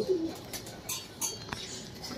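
Domestic pigeons in a Mumbai fancier's loft, including Gandedar and Chataidar birds, give soft cooing calls with a few brief louder notes. The sounds are close, fairly quiet and broken.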